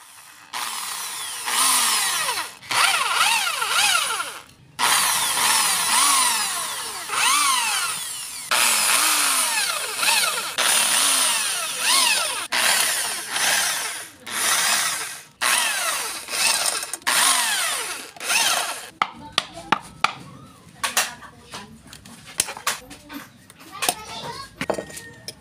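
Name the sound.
drilling out swing arm bushing of Yamaha Mio i 125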